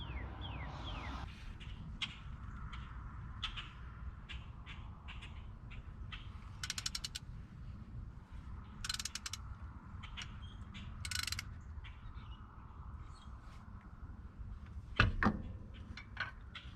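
A ratchet wrench works a bolt loose on a CAT C15 diesel engine, with repeated quick clicking bursts over a low background hum and a sharp metallic clunk near the end.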